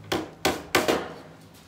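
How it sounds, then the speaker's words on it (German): A hammer drives nails into a wooden birdhouse with four sharp, close strikes in quick succession, each ringing briefly before fading. "Jetzt können wir von oben das gut festnageln."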